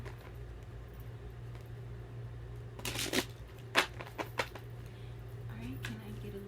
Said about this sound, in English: I'm going to give it 2 more shuffles.